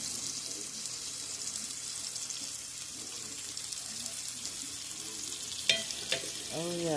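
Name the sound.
stirring shrimp and mushrooms frying in a pan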